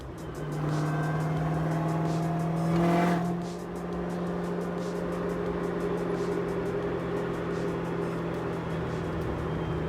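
A boosted Ford Cobra running E85 fuel drives down the road, its engine a steady, close droning hum that swells briefly as it revs, then settles into a constant cruise.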